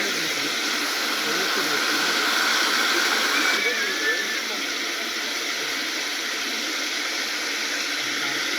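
Water rushing steadily through a mountain stream valley, a constant broadband wash that stays even and close throughout with no pauses.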